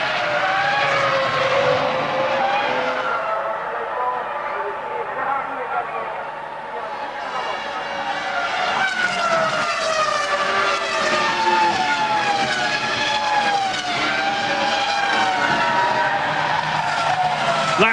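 F1 cars racing at Spa-Francorchamps in the F1 2002 video game, with a continuous loud, high-pitched engine whine rising and falling through gear changes as cars battle closely, under steady commentary.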